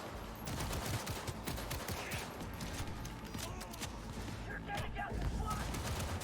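Gunfire in the video game Cyberpunk 2077, a dense, continuous crackle of rapid shots and impacts in a busy battle mix at moderate level.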